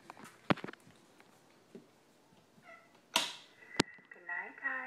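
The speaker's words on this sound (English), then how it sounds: "Here's the cat." A house cat meows indoors, a few short, rising meows near the end following scattered clicks and a sharp clatter, with a person talking softly nearby.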